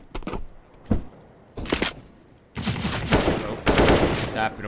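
Gunfire during a competitive video game match rings out in quick tapping bursts, the first shots sparse and spaced, then denser rapid volleys late on, loud and close, with a commentator talking over them.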